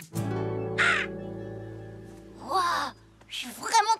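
Seagull calls from a children's cartoon, three short harsh squawks spread across a few seconds, fairly close and loud over a low steady tone.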